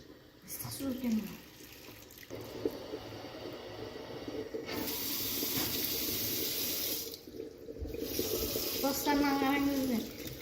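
Water sloshes and splashes continuously in a container holding several live fish, a close, gushing wash that swells and fades while people speak briefly over it.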